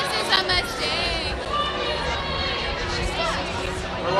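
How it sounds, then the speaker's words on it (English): Steady crowd chatter and hubbub at a street gathering in Fort Myers, Florida, a dense mix of overlapping voices heard while walking toward the crowd, fairly loud throughout with no single voice standing out. "We're walking towards the crowds."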